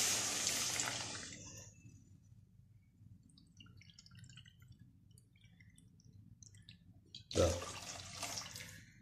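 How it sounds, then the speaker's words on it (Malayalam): Water poured into a pan of egg masala curry gives a brief splashing pour at the start, then quiet, and a sharp splash near the end; no voice is heard. "ഇനി നമുക്ക് ഇതിൽ വെള്ളം ചേർത്ത് കൊടുക്കാം."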